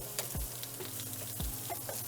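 Crusted lamb chops searing in a hot pan, a steady hiss of sizzling fat with two low thumps as the chops are turned or pressed.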